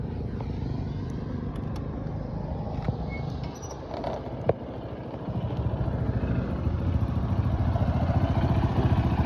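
A dirty motorcycle engine running steadily close by, a low rumbling idle with some clatter and a click, growing slightly louder toward the end.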